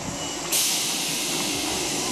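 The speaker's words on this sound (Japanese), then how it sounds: "回送電車が発車します。" A Tobu 8000 series train, set 8163F, departs Kasukabe Station out of service. A sudden loud air hiss starts partway through and continues steadily over the rumbling train nearby.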